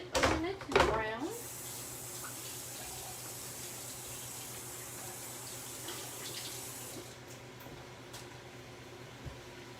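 Water runs steadily from a kitchen sink tap while hands are washed, a soft continuous hiss close by after a few brief clatters at the start, without speech.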